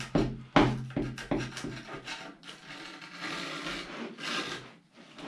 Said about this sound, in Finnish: Ja sitten ei muuta kuin mattopuukolla ruveta meistelemään näitä